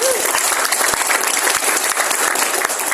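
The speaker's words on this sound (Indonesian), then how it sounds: "tepuk tangan untuk beliau Bapak Ibu" Applause from an audience at an indoor gathering, dense steady clapping filling the whole stretch at close range with no talk over it.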